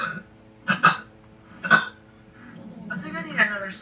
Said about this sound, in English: And then burp it out.